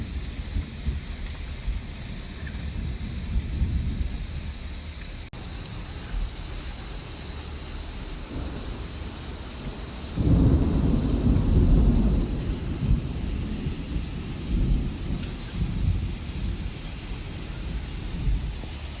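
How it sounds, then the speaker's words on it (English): A summer thunderstorm over an outdoor patio cookout brings steady rain hiss throughout, with a deep roll of thunder swelling midway for a couple of seconds before fading back under the rain. "We're cooking in a thunderstorm."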